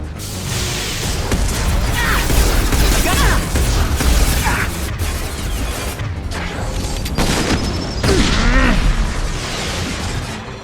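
A weapon in Mass Effect 2 fires at crates, producing a dense run of booming shots, bursts and smashing impacts, loud and near, with a mechanical whine and swells of explosive noise throughout.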